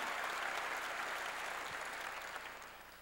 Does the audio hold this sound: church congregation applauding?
yes